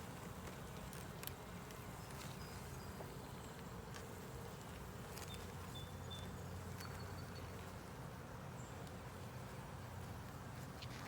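A honey bee colony in a ten-frame deep hive with a super, open for inspection: a dense, steady buzzing drone of many bees close by, with occasional louder individual bees passing and faint clicks.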